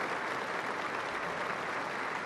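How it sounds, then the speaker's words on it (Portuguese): A crowd on the Campo de São Francisco applauds during the Santo Cristo solemn procession in the Azores, a dense, even patter of clapping sustained throughout at moderate distance. "todos os olhos no campo de São Francisco se voltam, os aplausos surgem"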